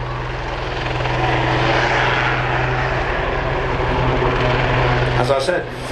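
A Royal Navy Lynx HAS3 anti-submarine helicopter of 815 Squadron flying at the East Fortune Airshow in 2009, a loud sustained rotor and engine roar with a steady low throb, filling the whole span without letup.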